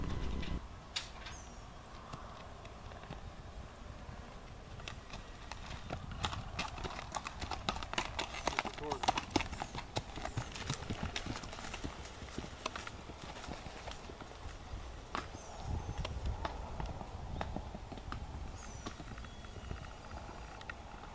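A smooth-gaited trail horse carries a rider downhill on a trail, its hooves clip-clopping in a steady, even rhythm that stays moderately close and fairly quiet throughout.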